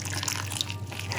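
Water poured little by little into spice powder for crunchy paneer: a short, soft, trickling pour, quiet and close, with a steady low hum behind it and no talk.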